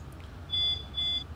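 Two high electronic warning beeps in a train cab in Train Simulator 2019 on the Gotthard line, each lasting about a quarter second with a short gap between, clear and close over a low cab hum.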